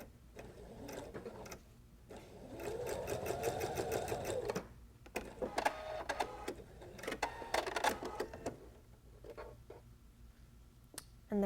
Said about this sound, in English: So you want to stitch the first seam at a scant 1/4